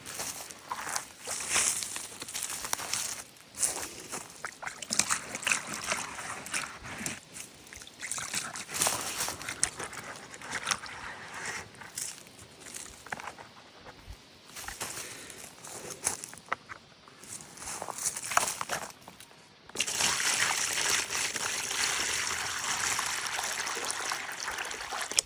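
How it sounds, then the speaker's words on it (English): Water runs, trickles and sloshes while a hedgehog water dish, brown and murky, is rinsed out and refilled outdoors, with steps and handling noises between pours and a steady run of water near the end. "I'm going to wash that out and refill it."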